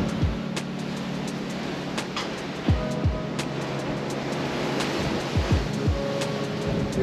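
Ocean waves heard from a cruise ship balcony on the Carnival Legend make a continuous rushing wash. Faint rumbles and a few soft chirps sit under it, and no one speaks.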